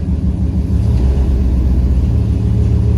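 A 2013 Chevy Equinox idles in drive with a little gas applied, giving a steady low mid-range engine rumble that holds close and even for the whole stretch, with no voices.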